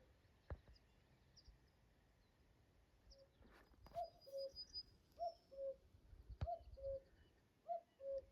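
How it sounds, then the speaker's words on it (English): A cuckoo in nearby trees repeats its two-note call four times in a steady rhythm, fairly close but soft, over quiet ambience and a couple of sharp knocks. "You hear the cuckoo again, he's very close somewhere in these trees here"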